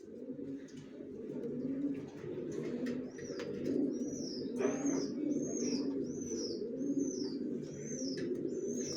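Racer pigeon babies coo in soft, repeated throaty phrases close by, with small chirps and occasional wing rustle over a steady hum of the loft.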